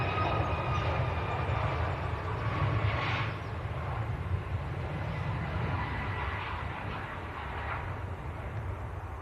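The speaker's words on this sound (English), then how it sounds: "There goes Ryanair to Faro." A Ryanair jet departing Leeds Bradford Airport for Faro gives a broad, steady engine roar that dominates the outdoor scene and eases slightly partway through, with no talking.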